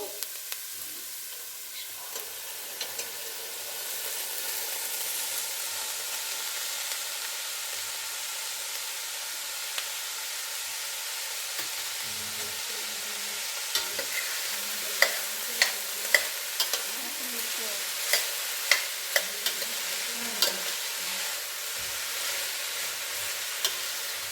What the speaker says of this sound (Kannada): ಸ್ವಲ್ಪ ನೀಟಾಗಿ ಫ್ರೈ ಮಾಡ್ಕೊಬೇಕು